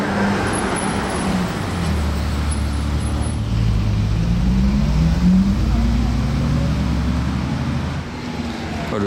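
A green Lamborghini Urus S drives past on a Monaco street amid steady traffic rumble, its engine note rising and falling loud and close throughout, with people talking over it.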